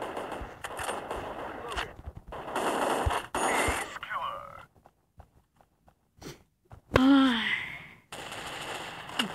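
Gunfire in the shooter game Crisis Action comes in rapid automatic bursts, a dense run over the first few seconds and another loud volley near the end, with quieter gaps between and some voice-like sounds mixed in.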